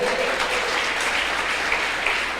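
A church congregation applauds during a worship service, a steady dense wash of clapping that fills the room evenly from start to finish with no voices standing out.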